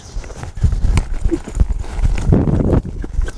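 Horse hooves clip-clop steadily on dirt during a cutting horse session with cattle, a quick irregular rhythm of close, loud thuds with a brief whinny-like tone partway through.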